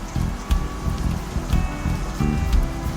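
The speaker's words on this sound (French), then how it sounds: "Le son de la pluie" Steady, fairly loud rain drums on a surface, close by, a dense continuous patter with some heavier drops and no voices.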